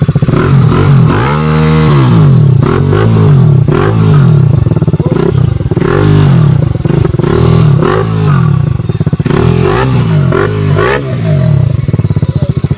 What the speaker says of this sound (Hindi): एग्जॉस्ट है तो आवाज़ भी एकदम खतरनाक सा ही आ रहा है